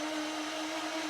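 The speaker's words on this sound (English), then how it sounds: "so if I do it in the blender" A blender runs steadily, whirring as it purees a parsley dressing, a loud continuous motor drone with no pauses and no talk over it.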